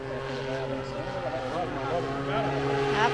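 Drone flying nearby, a sustained buzzing whine with shifting pitch that rises slightly toward the end, heard under people talking casually outdoors.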